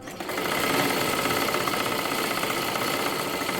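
A sewing machine stitches a sleeve seam in a continuous fast whirring rattle, close and steady for the whole stretch, with no talking.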